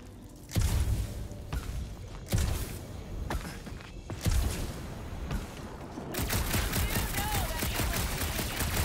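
Gunfire in the Guardians of the Galaxy video game, three or four loud separate blasts spaced about two seconds apart, followed by a steady rushing, crackling din of game sound effects.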